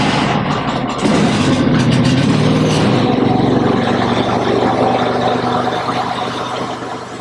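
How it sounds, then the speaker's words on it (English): A Norwood bandmill sawmill engine running warm, a loud, steady close-up drone that swells slightly after the first second and holds evenly before easing off a little at the end, with no voices. "So we're gonna fire up the sawmill."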